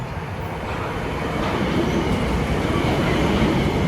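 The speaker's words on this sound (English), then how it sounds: "Now let's wait for this train to come." A Metro-North commuter train arriving at Mount Vernon West station rumbles steadily close by, a continuous rolling roar of wheels on rails that swells slightly as it draws nearer.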